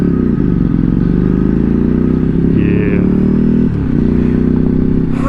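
A Ducati Streetfighter 848 motorcycle with a slipping clutch runs loud and close with a steady, heavy engine drone throughout, and a rider's voice can be heard over it.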